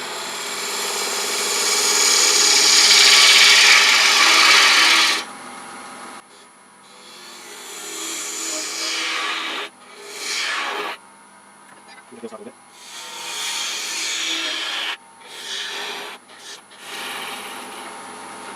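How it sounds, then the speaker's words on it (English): A bowl gouge cuts into end-grain wood spinning on a lathe, making a loud, steady broadband shearing hiss for about five seconds, then shorter bursts of cutting noise come and go in separate passes against the motor's hum. "we can use a bowl gouge a little ways or a spindle gouge to start that bowl process"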